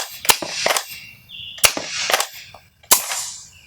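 A Vanguard Nerf blaster modified to run on HPA from an air tank fires three sharp, loud cracks at close range, each followed by a short hissing burst of air, with brief pauses between them.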